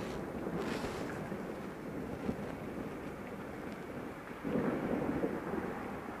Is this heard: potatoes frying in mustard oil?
no